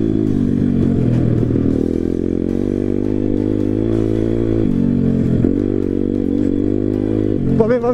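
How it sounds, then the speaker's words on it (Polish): An MRF 140 RC-Z pit bike engine being run in, running steadily and loud at close range for the whole stretch with small shifts in revs, and a brief clatter near the end. "Silnik lepiej chodzi po prostu."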